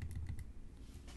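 Keystrokes on a Mac keyboard while entering Terminal commands, a quick run of clicky taps in an uneven rhythm, close and fairly quiet, with no talking.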